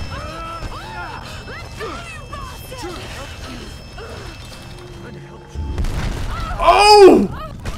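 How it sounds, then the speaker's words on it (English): Explosive barrels blowing up in the 2013 Tomb Raider video game, a sudden loud boom and rumbling crash near the end after quieter game sounds and music. "Three barrels exploding causes an entire fucking earthquake."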